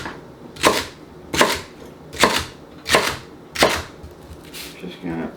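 A knife chops celery into chunks on a board, making five loud, evenly spaced thuds close by, with brief quiet gaps between them and a softer clatter at the end.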